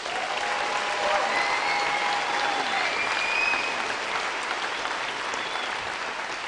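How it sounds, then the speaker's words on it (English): A large crowd at a school homecoming skit night applauds the volleyball team, giving dense, sustained clapping that stays loud and even from start to finish, with no voices over it. "one more round of applause for the volleyball team"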